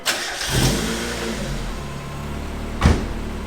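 A Mazda Miata with the top down pulls away on its first drive, the engine revving up close by, easing off, then giving a sharp second burst of throttle near the end.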